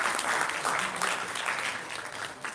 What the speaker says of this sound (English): Can we hear a big round of applause to everybody?